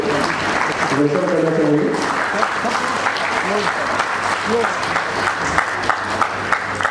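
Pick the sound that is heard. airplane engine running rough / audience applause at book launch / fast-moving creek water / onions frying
audience applause at book launch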